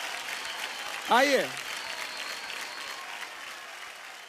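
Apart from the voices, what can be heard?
applause for Super Mom Riddhi and Shyam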